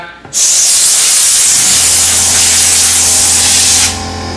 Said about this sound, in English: Roach is getting sprayed.